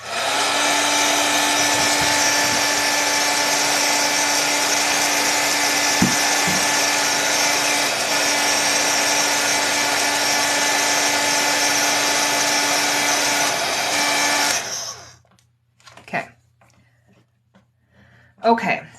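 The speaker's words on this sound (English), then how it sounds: "while I just give this a blow dry" A handheld blow dryer drying paint on a peony painting, a loud steady whirring whine with a constant tone that runs for about fifteen seconds, then cuts off, leaving a few faint clicks and handling sounds.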